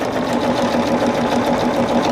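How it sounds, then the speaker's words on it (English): A sewing machine runs steadily, stitching an eighth-inch seam down the handle of a tester bag, with a close, continuous whirring hum and no pauses. "So I'm sewing 1/8 of an inch all the way down."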